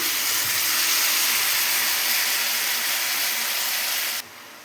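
Tomatoes dropped into a pan of frying onions and garlic set off a loud, steady broadband sizzle that holds for about four seconds before dropping off sharply.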